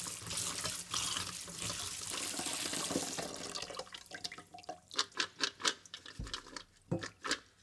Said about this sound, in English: drain and rinse the walnuts several times under running water until the rinse water is clear